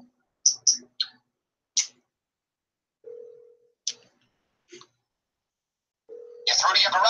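Phone keypad dialing to call up a car in a video game: a handful of short, sharp clicks and tones come one by one at irregular gaps, with a steady tone held in two spots and a burst of noise at the end.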